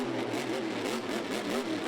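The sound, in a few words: Monster Jam monster truck engine refiring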